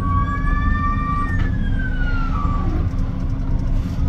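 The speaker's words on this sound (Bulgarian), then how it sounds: "пуснаха линейката" An ambulance siren wails through Chicago-area traffic, a clear tone that slides downward and fades as it passes, layered over the constant low rumble of a moving vehicle.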